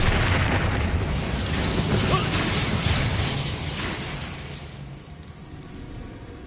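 A blasting spell in a Harry Potter video game erupts in a loud, broad burst of noise that rumbles and crackles for several seconds, then slowly fades.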